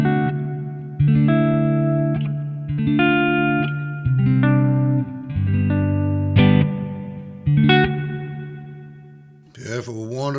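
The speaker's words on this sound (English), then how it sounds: "next one is the church reverb." Church reverb setting on a Hotone Ampero Mini guitar processor: a series of sustained electric guitar chords ringing out with long, spacious tails that overlap into one another, heard alone with no talking over them.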